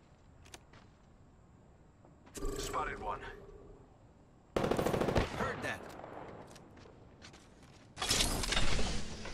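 Video game gunfire comes in three loud bursts of rapid shots, a longer burst, then a sustained final volley, with spoken lines in between.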